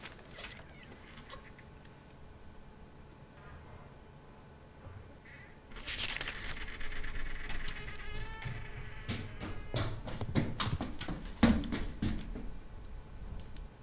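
Children running through school corridors in the video game Summer of '58, set in an orphanage: a dense clatter of rapid footsteps and thumps rising suddenly midway and continuing loud and busy to the end, with no talk.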